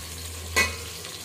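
Onions frying until golden in a pan for a beef pulao, a brief louder sizzle and stir rising over a steady low frying hiss.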